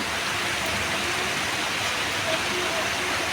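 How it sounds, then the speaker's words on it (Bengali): Light early-morning rain falls over a rooftop garden as a steady, even hiss that holds without change from start to finish, close and moderately loud, with no voices heard. "বৃষ্টি তত বেশি না তারপরও মোটামুটি"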